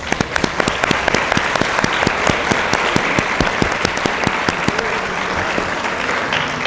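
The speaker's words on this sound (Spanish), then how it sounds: "los recibamos con un fuerte aplauso" An audience breaks into applause to welcome visiting members at an educational talk on viruses and pandemics. The clapping is loud, dense and steady throughout, with sharp individual claps standing out from a thick wash, and no voices on top.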